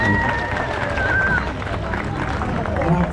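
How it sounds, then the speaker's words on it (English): Audience at a Six Flags Discovery Kingdom tiger show clapping for Tasha the tiger, steady, fairly close applause and crowd murmur with a few voices over it, holding evenly for a few seconds. "How about a big round of applause for Tasha?"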